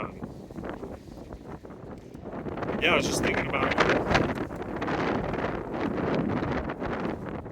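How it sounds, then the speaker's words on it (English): Gusty wind buffets the microphone with a low, rumbling roar that swells partway through, while a person speaks briefly. "it's very windy here."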